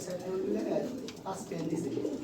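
Domestic pigeons coo in low, soft rolling phrases close by, repeating several times over a steady background hum, with someone talking nearby.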